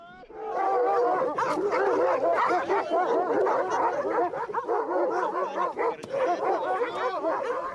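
Shepherd's dogs in Dagestan bark at an approaching visitor, several animals yapping loud and close in a dense, continuous volley with overlapping barks and yips.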